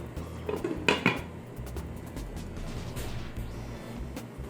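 A metal lid clanks onto a pot of chicken feet Bicol Express reducing in coconut milk, a short cluster of close clinks near the start, followed by a low steady simmer and faint kitchen rumble, with no talking.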